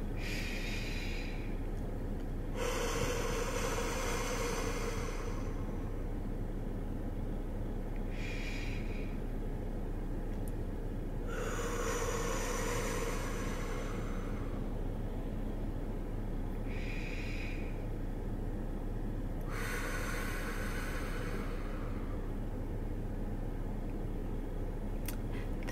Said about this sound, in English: breathe in 3 times